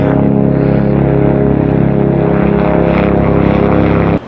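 A loud, continuous engine roar with a throbbing rotor drone as a helicopter passes close overhead in the mountains, steady throughout before cutting off at the end.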